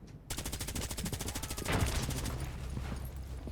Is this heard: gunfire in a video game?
yes